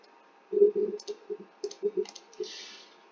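A computer mouse clicks quickly to cut and paste text, a burst of close, light clicks in an uneven cluster over a faint hum.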